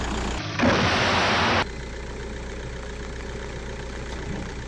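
A BMW six-cylinder car engine fitted with a heavy-truck turbo cranks and fires with a loud one-second burst, then settles into a steady, even low idle.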